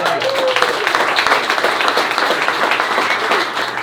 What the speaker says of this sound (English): you put your hands together for Johnny Johnson